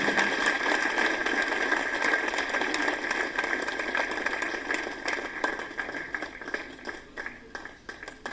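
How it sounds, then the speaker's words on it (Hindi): A crowd at an award ceremony claps steadily, dense applause filling the room and slowly thinning toward the end. "प्लीज जोरदार तालियां हो जाए"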